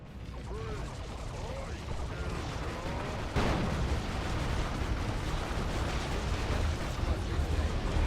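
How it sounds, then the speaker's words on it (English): Long-range D-Cannon artillery from the Imperial Guard in the strategy game Dawn of War II: Retribution fires, a sharp boom landing mid-clip over a dense, continuous battle din of explosions and gunfire, with whistling projectiles earlier. "we're going to see a D-Cannon brought out onto the field as well. D-Cannon, long-range artillery."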